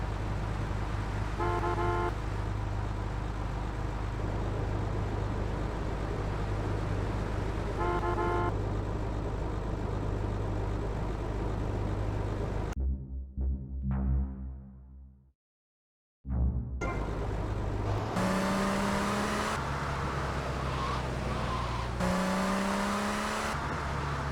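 A stolen police squad car drives through GTA Vice City with a loud, continuous engine drone and horn-like toots, cut by a brief dropout into near silence before the engine roars back with rising revs.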